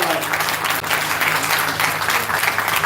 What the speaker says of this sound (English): Can we have a big round of applause for our master of ceremony?